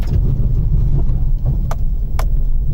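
A Maruti Suzuki Celerio with 170 mm ground clearance drives through a shallow rocky stream on an off-road route into Rajaji Tiger Reserve. A steady, loud engine drone runs throughout, with a couple of brief splashy bursts.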